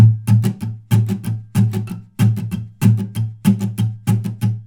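Close acoustic guitar strumming in a quicker down, down, up pattern for a song, steady repeating groups of strums ringing out with no talking.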